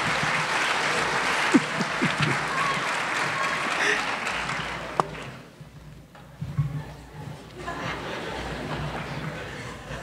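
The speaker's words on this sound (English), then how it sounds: "Give another round of applause for these great children." Loud audience applause for children after a Veterans Day music performance fills the room, clapping swelling, dipping briefly midway, then resuming amid scattered cheers and chatter.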